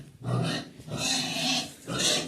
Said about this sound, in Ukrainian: Та свиня кричить.